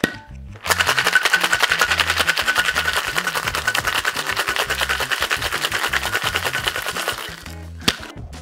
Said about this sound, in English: Real quick, dry shake, and then we'll add some ice, and wet shake.